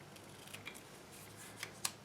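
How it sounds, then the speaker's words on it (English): Scissors snip through paper for a bee-themed flipbook, a few quiet, close cuts spaced irregularly over a faint background, the last snip the sharpest. "I'm just going to cut"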